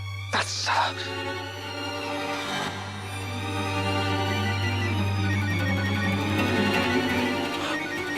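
A phone ringtone plays continuously, a bright looping melody over a steady low hum, with no talking.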